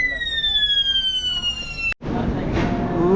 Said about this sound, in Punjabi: ਅੱਗ ਲੱਗੀ ਫਾਇਰ ਅਲਾਰਮ ਵੱਜਿਆ